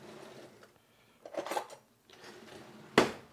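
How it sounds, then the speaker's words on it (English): A big spoon scraping seeds from the center of a halved spaghetti squash gives a few soft scoops, then a sharp clack of the spoon against the bowl or squash, close and fairly quiet. "a big spoon and just scoop those out without disturbing too much of the spaghetti squash"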